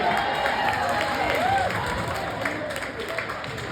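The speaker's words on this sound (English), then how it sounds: "Leave some space for the mic to pick up the applause I knew was coming" Applause from the crowd at a hockey game, a steady wash of clapping and cheering filling the whole stretch, with a voice faintly under it.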